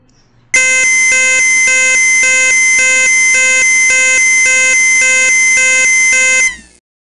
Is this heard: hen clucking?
no